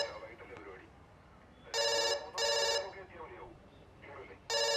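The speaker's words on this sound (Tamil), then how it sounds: "போன் அடிக்கிறதுல எடுத்துல." An electronic telephone in a movie scene rings in short repeated bursts, loud and close, with voices talking quietly in between the rings.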